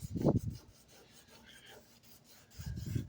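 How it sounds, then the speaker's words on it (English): Sandpaper rubbing over painted bodywork on a 1965 Mustang coupe, two short, close rasping strokes at the start and end with quiet room noise between. "I'm going to sand this down right here and then get it good and smooth again."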